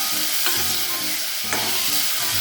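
Ground masala and vegetables fry in a pan for a temple-style huli. A loud, close sizzle is broken by repeated scraping spatula strokes about once a second, with no talking.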